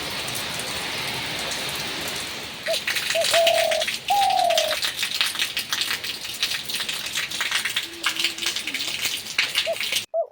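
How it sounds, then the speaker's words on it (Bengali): Steady light rain falls outside, a continuous soft hiss of drops on surfaces with brief pigeon-like calls and rattles over it. "বাইরে হচ্ছে সেই বৃষ্টি। দেখো ঝিমঝিম ঝিমঝিম বৃষ্টি।"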